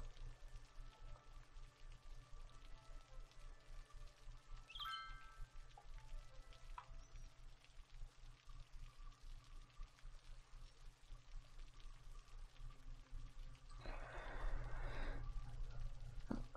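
Water overflowing and pouring in the city-building game Cities: Skylines: a faint, steady watery wash under a low background hum, swelling into a brief, louder gushing pour near the end.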